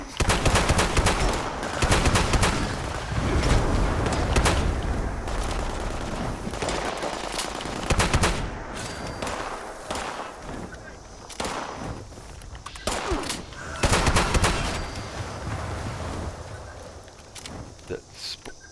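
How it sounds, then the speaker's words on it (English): Bursts of distant and mid-range gunfire from another player ring out during a Fallout 76 session, repeated volleys and rapid shots stacking over game ambience while someone talks throughout. "oh, I hear somebody else shooting at it"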